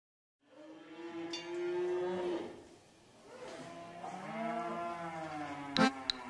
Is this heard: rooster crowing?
no